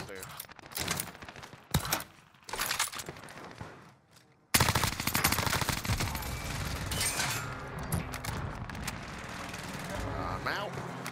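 A player's gun in Warzone Rebirth Island fires in rapid automatic bursts, first short choppy volleys, then a near-silent gap, then a long sustained stretch of loud fire with voices talking underneath.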